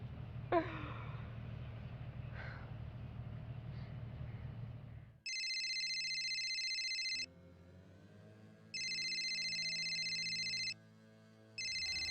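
Telephone ringing unanswered, repeated electronic ring bursts of about two seconds each with short gaps, following a stretch of quiet room noise with a faint gasp.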